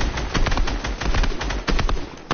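Fortnite players trade fast automatic gunfire in dense, rattling bursts with brief gaps, sounding close and steady throughout with no talk over it.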